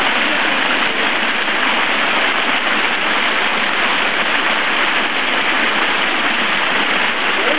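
A water fountain at the Marina d'Or holiday resort splashes in a loud, dense and unbroken hiss, close by and with no voices heard.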